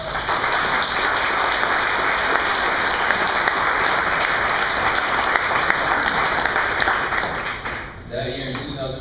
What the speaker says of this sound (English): it's a round of applause for my cousin